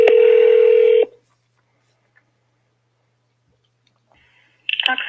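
Telephone keypad tone pressing 0 in an automated phone menu, a steady loud beep for about a second, then silence before a ringing or connecting tone begins.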